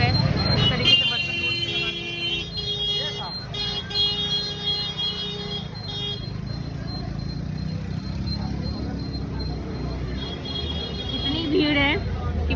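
Slow-moving traffic crawls through a crowded Dhanteras market street lined with utensil shops, with a steady rumble of engines, occasional horn toots and a constant murmur of the crowd and nearby voices throughout.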